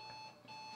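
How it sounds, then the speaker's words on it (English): An alarm goes off at a Tea Party event in Asheville, North Carolina, giving a steady high electronic tone with harmonics that rings continuously and fairly loud, dipping briefly in the middle before resuming. "That's an alarm going off."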